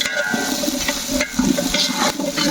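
Half a kilo of small shallots sautéing in a pan, giving a steady sizzle and crackle with soft stirring bumps and scrapes, close and fairly loud with no talk.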